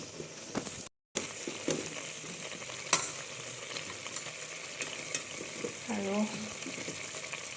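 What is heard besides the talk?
potatoes and meat frying, being stirred in a pan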